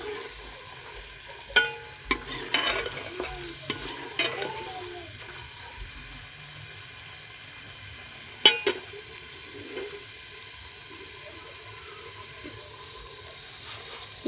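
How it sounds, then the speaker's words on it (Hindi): Taro (arbi) pieces frying in ghee in a pot, with a soft continuous sizzle broken by a few sharp clatters and stirring scrapes, fairly faint and close, with no talk. "अरबी को मैंने घी में डाल दिया है"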